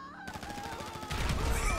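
Rapid bursts of gunfire in a GTA Online heist, growing louder and denser in the second half as shots rattle close together over a continuous game background.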